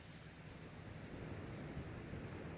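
Ocean surf rolling onto a beach at Garden City, South Carolina, a steady broad wash of breaking waves with some wind noise across the microphone, continuous and moderately loud with no voices.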